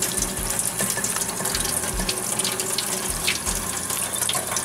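Water runs from a kitchen tap while homemade cheese made from powdered milk is rinsed, a steady close splashing stream with small shifts in flow, continuous and with no talk.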